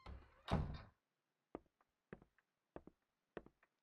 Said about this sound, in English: The door right behind me opened.